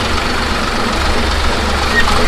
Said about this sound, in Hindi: ट्रैक्टर पे जा रहा हूँ भैया के साथ